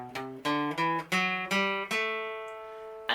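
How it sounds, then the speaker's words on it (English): A dorian scale picked note by note on guitar in an Irish-style minor-key lesson, about seven distinct ascending notes, the last one left to ring out, close and clean with no voices. "So if I play the scale of A dorian, it sounds something like this."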